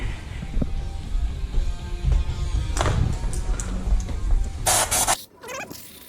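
A hissing burst of compressed air sprays into the engine valley near the end, following rustling and mechanical handling noises close by, on a Nissan R34 GT Turbo engine during spark plug and coil pack work.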